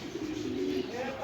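A Chinese dove cooing at a pet bird market, one low, sustained, rounded coo held for about a second, close and clear over faint background noise.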